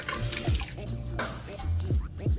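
Warm water from a sink tap is splashed onto a face, with steady running water broken by several quick wet splashes close by.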